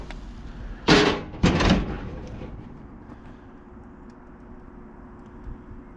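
A heavy metal boiler door bangs twice in quick succession as it opens and shuts, loud and close, followed by a low steady rumble of the firewood fire.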